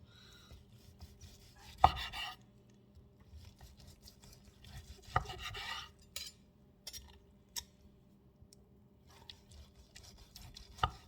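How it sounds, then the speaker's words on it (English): A knife slices through a cooked pork roast on a board, with a few sharp cutting thunks and soft scraping strokes spaced irregularly, close but fairly quiet, with no talk. "So I'm gonna slice it right now"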